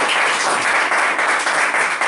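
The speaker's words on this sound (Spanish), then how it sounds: "les doy y les pido por favor un aplauso al periodista Richard Sandoval" A seated audience applauds a journalist with dense, continuous clapping that stays full and even throughout, with no voices over it.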